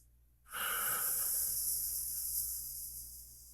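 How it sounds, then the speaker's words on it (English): A slow exhalation through the mouth during a guided relaxation exercise, a single soft, airy breath close to the microphone that fades gradually over a few seconds, with no talking. "And breathing out through your mouth."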